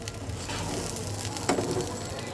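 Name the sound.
pouring hot water into pot for pilau with peas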